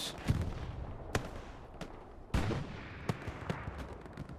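Rockets and rounds going off in the World War II shooter Hell Let Loose on the Tobruk map, a string of sharp, booming blasts at irregular intervals, some close and punchy, others more distant, over a low rumbling background.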